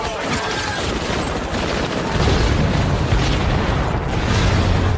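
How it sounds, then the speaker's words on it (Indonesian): Film gunfire as police shoot at a van until it explodes: a rapid crackling fusillade gives way to a heavy, rumbling blast that sustains loudly to the end. "polisi sudah menghadang di depan gerbang dan menembaki mobil van mereka hingga meledak"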